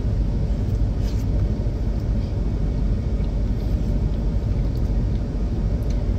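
Steady low rumble inside a moving car, a dense continuous road and engine drone that holds level throughout, close and fairly loud, with no talking.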